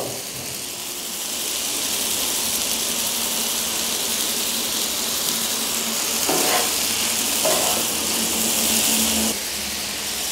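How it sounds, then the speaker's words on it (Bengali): Vegetables frying and being stirred in a pan, with a loud, continuous close sizzle and brief scraping stirs partway through, no talk. "ভালোভাবে নাড়াচাড়া করব।"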